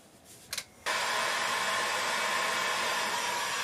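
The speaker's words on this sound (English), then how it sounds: "So I'm going to attempt to heat it with the heat gun and scrape it up" Heat gun softening old peel-and-stick floor tile adhesive, switching on after a couple of faint clicks and then blowing with a loud, steady, close roaring hiss.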